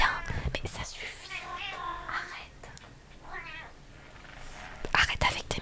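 A pet cat meows repeatedly, plaintive, drawn-out cries close to the microphone, while someone talks softly over and between them indoors.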